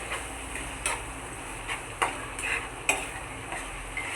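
Prawn bhuna is stirred in a pan, a soft background sizzle broken by a series of irregular scraping and clicking strokes of the spoon against the pan, close and with no talk.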